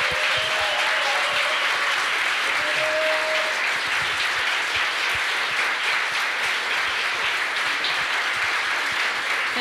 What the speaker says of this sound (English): So maybe give them a warm applause.